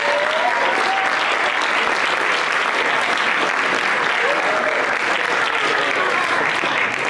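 Loud, continuous clapping from a student crowd at a leadership summit, thick and sustained throughout with a few faint voices rising within it.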